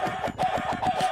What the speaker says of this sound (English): That's 93 chickens.